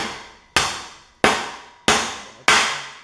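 Five sharp taps of a brass hammer on a metal needle gun, evenly spaced about half a second apart, each ringing briefly before fading. Close and fairly loud.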